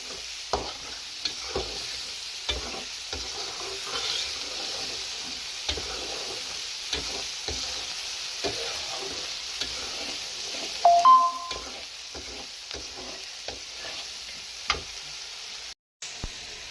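Biryani masala is stirred in a pan for chicken biryani, with a soft continuous sizzle and regular light scraping of the spoon against the pan, fairly quiet and with no talking.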